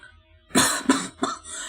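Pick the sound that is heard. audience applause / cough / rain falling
cough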